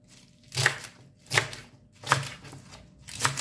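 Four evenly spaced chopping strikes of a food chopper cutting celery for a detox juice, each a crisp, close thud-and-crunch with short pauses between them and no talk.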